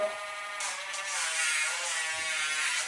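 A Dremel rotary tool grinding a dog's nails gives off a steady, high-pitched electric buzz that hums on close by without a break.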